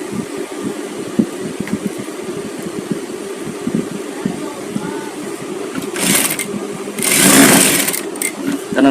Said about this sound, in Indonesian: Jadi ini kampuhnya kita jahit lipat.